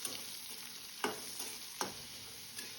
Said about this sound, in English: And now add chopped onion, curry leaves and green chili.